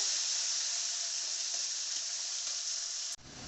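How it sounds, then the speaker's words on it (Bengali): Tangra fish frying in hot oil, a dense, even, close sizzle that hisses continuously before cutting off abruptly near the end. "এবার আমি এই তেলের মধ্যে দিয়ে দেব ট্যাংরা মাছ। মাছটা আমি ভালো করে ভেজে নেব।"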